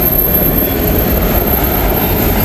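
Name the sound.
fast train passing by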